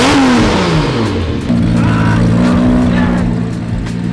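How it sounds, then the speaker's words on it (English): A 1000HP JZ-engined pro race car roaring loud and close, its pitch rising and falling through revs before settling into a heavy, steady drone. "Just start it up and rev it and I'll be good for the rest of the day."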